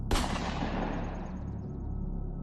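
A single sharp gunshot sound effect, fired at a werewolf, cracks close and loud, then decays into a long rumbling tail.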